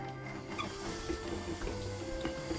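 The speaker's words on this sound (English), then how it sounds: "using a hand mixer or a stem mixer, we're going to beat them through until the chocolate is melted." An electric hand mixer beats white chocolate melts, a steady whirring drone with soft irregular churning as the beaters work through the mixture, heard close with no talking.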